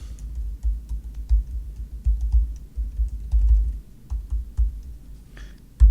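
A password being typed on a computer keyboard: a quick irregular run of soft key clicks, close and fairly quiet, with no talk.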